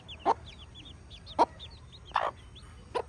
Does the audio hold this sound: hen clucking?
yes